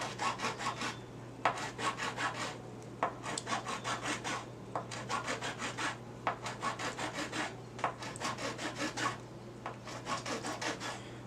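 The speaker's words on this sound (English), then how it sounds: "These little triangular files, I pick them up generally at garage sales because people don't use them anymore." A small triangular file rasps across the spine of a Mora knife sheath in steady back-and-forth strokes, close and alone, each stroke a short gritty scrape with brief pauses between bursts.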